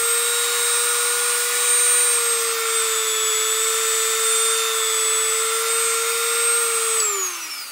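Dremel Model 200 rotary tool whining steadily at its second speed setting, a high constant tone held for several seconds before spinning down at the end; close and alone.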